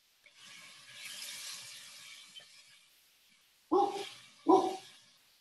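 Dogs bark twice, loud and close, after a stretch of quiet kitchen background during a home beef cooking class.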